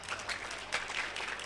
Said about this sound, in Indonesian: boleh minta tepuk tangan untuk juara kedua kita